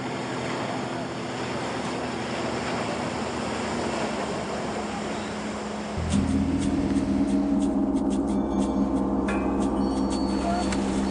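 Waves wash against a rocky fjord shore in autumn, a continuous broad surf roar with wind, growing louder and closer about halfway through, with no voices.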